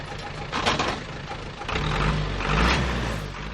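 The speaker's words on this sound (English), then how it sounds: "Then a truck comes from one of 14 collection points spread across Bungoma County." A milk collection truck in rural Bungoma County, Kenya, pulls in with a mid-pitched engine drone that rises as it revs and nears, loud and close, with no talk over it.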